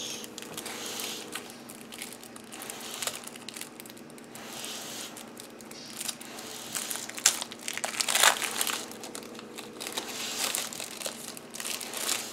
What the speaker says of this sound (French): OK, on va ouvrir les cartes ici.